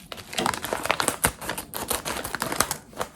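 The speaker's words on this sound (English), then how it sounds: "grab the scissors, cut the top" Scissors snip and crinkle through a plastic pouch of Samsung washer drum-cleaning product, a quick series of sharp cuts and rustles close up.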